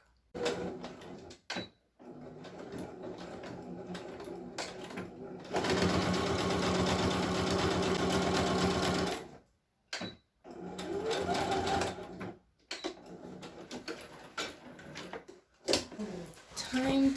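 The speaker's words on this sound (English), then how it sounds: "now I'm gonna sew a straight stitch" A sewing machine runs a straight stitch along a pant seam in one long, loud, steady whir of about four seconds, framed by shorter starts, clicks and handling noises, with brief speech-like bits between bursts.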